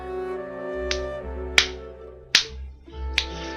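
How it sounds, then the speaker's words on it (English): Four sharp, slow mocking claps from a character in the video game Regalia: Of Men and Monarchs, spaced about a second apart, crisp and close, over a low sustained background hum. "proceeds to clap in obvious mockery"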